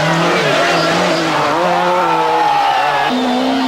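Four-wheel drive rally cars at a 1996 European Rally Championship event roar past with loud, sustained engine drone and shifting revs, tyres squealing and skidding on the stage throughout.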